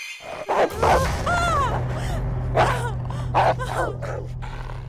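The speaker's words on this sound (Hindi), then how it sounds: "इस घर में कुत्ते भी हैं।" A dog barks repeatedly inside a house, several sharp yips and barks spread over a few seconds, close and fairly loud over a low background hum.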